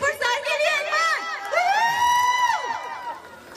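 A wedding show audience cheers and whoops loudly, with high shouts and whistle-like cries overlapping continuously in a close, dense crowd roar.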